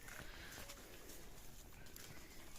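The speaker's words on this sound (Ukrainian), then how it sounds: "Корови йдуть. Куди йдете? Додому йдуть." Hooves clop irregularly on the ground as a herd of cows walks past at a distance, heading home, with faint bird calls in the background.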